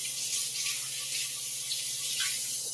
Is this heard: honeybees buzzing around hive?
no